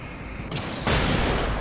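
A sudden explosion in Alan Wake, a sharp burst that jumps into a loud, wide roar and keeps rumbling.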